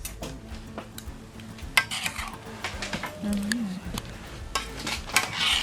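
Potatoes sizzle and bubble steadily in a pan on a MaMa Fisher wood-burning stove, with occasional clicks and knocks of cookware and a faint voice in the background.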